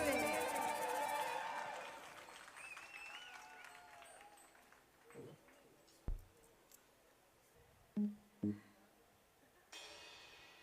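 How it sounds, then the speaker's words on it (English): A festival audience at WOW Festival Pakistan 2023 claps for a band. The applause is loud at the start and fades within a couple of seconds, followed by quiet talk and a few scattered thumps and clicks. "Please clap for my band."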